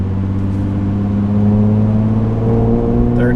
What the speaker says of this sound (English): Yeah, it's loud. I don't think that's a stock exhaust